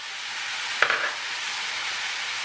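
A spoon stirs ground roasted cumin and anchar masala in a hot pot over a constant bright sizzle, with one brief scraping stir standing out near the start.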